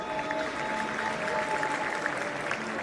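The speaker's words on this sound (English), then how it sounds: "That's a huge cheer, as you'd expect" Crowd cheering and applause fill an athletics stadium during women's 400m hurdles heats, a loud steady roar that is continuous throughout.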